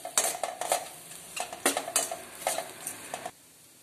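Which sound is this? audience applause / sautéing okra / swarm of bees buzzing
sautéing okra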